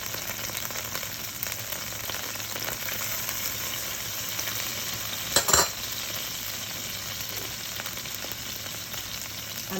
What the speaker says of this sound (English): let's add that butter in there. And to that I want to add my garlic just to infuse